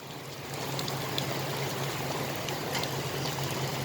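Heavy rain pours down steadily in a broad, even wash of noise that swells in just after the start and stays loud and continuous, with no voices.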